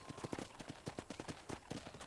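Horse hooves trot in the video game Red Dead Redemption on PS5, a quick, even clip-clop rhythm of close hoofbeats that continues for the whole short stretch.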